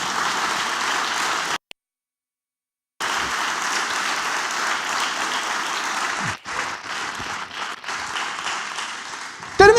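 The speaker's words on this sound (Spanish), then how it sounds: "dale un fuerte, pero fuerte aplauso a Jesús" A church congregation applauds loudly and steadily during a Sunday morning service, with a brief silent dropout early on, then the clapping resumes and slowly thins.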